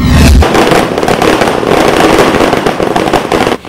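Loud, dense New Year's midnight fireworks over Cebu, Philippines, bursting continuously, a rapid crackling barrage of explosions with no pauses, close and overwhelming.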